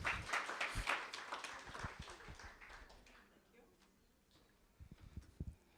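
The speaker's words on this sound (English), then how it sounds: "Give her a round of applause, please" A workshop audience applauds a presenter, a brief burst of scattered hand claps that quickly thins out, followed by quiet room noise and a few faint knocks and shuffles.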